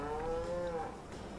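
A cow in Farming Simulator 19 lets out a single long, close moo with a steady tonal drone that bends slightly in pitch, heard alone without talk.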